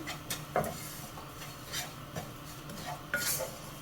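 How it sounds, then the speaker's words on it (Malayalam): Okra masala fry being stirred in a pan, with scraping and light sizzling strokes coming at an uneven rhythm, close and moderately quiet, no voices. "നല്ലതുപോലെ ഇളക്കി മിക്സ് ചെയ്യാം."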